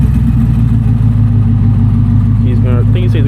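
Twin-turbo Ford F150 doing a burnout with only one tire spinning: a loud, continuous low engine roar holds steady, and a voice talks over it near the end.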